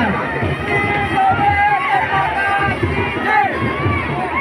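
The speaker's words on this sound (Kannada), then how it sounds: "ತಾವೆಲ್ಲರೂ ಭಕ್ತಾದಿಗಳು ಚಪ್ಪಾಳೆ ಮುಖಾಂತರ ತಾಯಿಯ ಜಯಘೋಷದ ಮುಖಾಂತರ ತಾಯಿಯನ್ನು ಸಂಭ್ರಮಿಸೋಣ." Dense crowd of devotees cheering and clapping at the Sri Chowdeshwari temple jatra festival in Mashal, a continuous, loud, close hubbub of voices and claps with no pauses.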